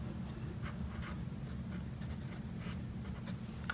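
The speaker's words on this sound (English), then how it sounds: "So let's write it again." A pen or marker scratches steadily across a surface while a math expression is written out, with short strokes in a continuous quiet scribbling rhythm and no talking.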